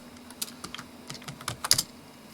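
Quick, uneven clicks on a Dell Latitude 433C laptop keyboard tap out in short bursts, close and fairly soft, with no voices.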